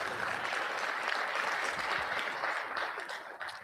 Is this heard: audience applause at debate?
yes